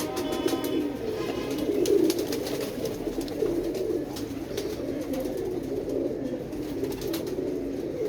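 Close, continuous low cooing from a prized pigeon, soft rolling calls repeating steadily over faint background noise, with no one speaking.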